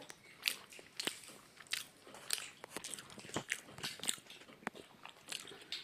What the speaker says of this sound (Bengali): সোনাও খাচ্ছে।